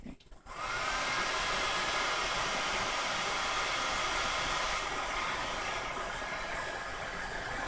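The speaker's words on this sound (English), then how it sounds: "Blow dry it." A hair dryer runs at full blast while blow-drying hair, a loud, steady close whoosh that switches on sharply and holds without a break.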